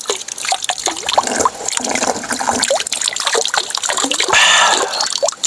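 Natural spring water trickles and splashes nearby, a lively, continuous gurgle with scattered drips and small gushes, loud and close with no voices over it.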